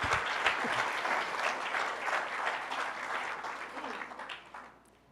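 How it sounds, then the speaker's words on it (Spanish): A church congregation breaks into warm, full applause during a sermon, many hands clapping together before the sound tapers off toward the end. "Denle otro aplauso a Cristo."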